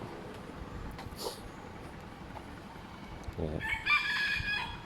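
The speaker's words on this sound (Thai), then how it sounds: "เสียงไก่ขัน" A rooster crows in the distance amid forest ambience at a Thai forest monastery, followed by a louder, nearer crow near the end.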